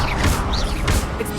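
A short, dense whooshing burst from the Incendio fire spell cast in the video game Hogwarts Legacy, loud and continuous for just over a second.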